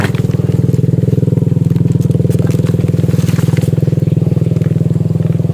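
A loud motor vehicle engine idles steadily nearby with a rapid, even throbbing rumble that never lets up.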